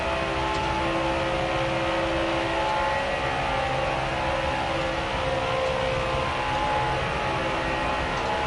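Xfinity race cars at Talladega Superspeedway in NASCAR Heat 4 drone as a steady, dense engine roar from the pack, loud and continuous with no breaks.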